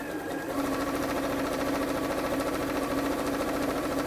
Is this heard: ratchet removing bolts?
no